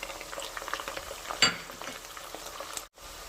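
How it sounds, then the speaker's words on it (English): Ground coriander, cumin powder and salt fry in a Mughlai chicken korma curry base, giving a soft, close sizzle with light stirring scrapes and one brief louder clatter. "At this point we're gonna be adding the coriander, cumin powder and salt."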